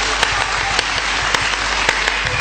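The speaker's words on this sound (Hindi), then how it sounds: "एक बार तालियां वालियां बजा करके बताए मेरे को" An audience at a poetry recitation gives steady continuous clapping, with a few sharper individual claps standing out at irregular moments.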